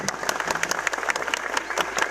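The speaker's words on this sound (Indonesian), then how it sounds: "Tepuk tangan untuk hal malam hari ini" Crowd applause at a nighttime Indonesian haul commemoration gathering, brisk, dense clapping from many people at moderate volume, with a low steady hum underneath.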